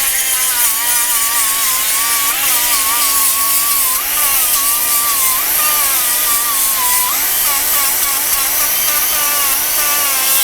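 A 60 grit sanding disc grinds against metal threads with a loud, continuous high-pitched whine whose pitch wavers slightly as pressure shifts, close up and steady throughout.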